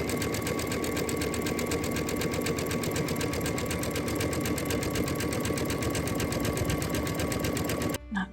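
A sewing machine runs steadily and loud while stitching a stretched lettuce hem along a fabric edge, a fast continuous mechanical whir that stops abruptly near the end.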